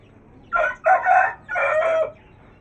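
A brown hen cackles loudly in three bursts, close by, with a short gap between the first two and a longer final call; no talking.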